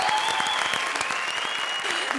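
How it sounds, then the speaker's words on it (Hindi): A studio audience at a televised comedy show applauds loudly and continuously, with faint voices and a brief tonal sound running under the clapping. "जोरदार तालियां मंत्रा और विशाखा के लिए।"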